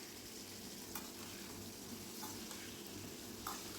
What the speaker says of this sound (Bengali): এবার আলু আর পটল একসঙ্গে ভালো করে ভাজি করে নিব।